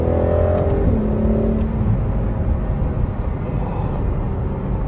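A Ferrari sports car's engine revs under light throttle as it accelerates, a loud, close, rising drone that settles into a steady whirring roar with no talk.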